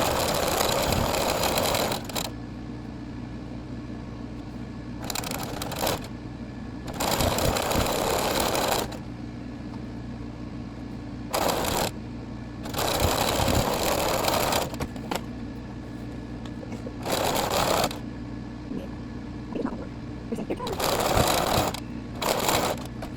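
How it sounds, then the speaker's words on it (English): A sewing machine stitches paper quilt pieces in repeated loud, close bursts of rapid whirring, each lasting a few seconds and separated by quieter pauses while the pieces are repositioned. "and continue sewing."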